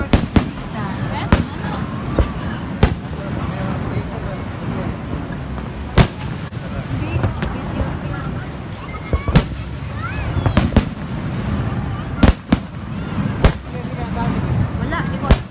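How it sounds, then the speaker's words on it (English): Fireworks go off during a summer trip to Canada, sharp cracks and bangs popping at irregular intervals with some in quick clusters, set against a crowd murmur and nearby voices talking. "Nabus na yung firework."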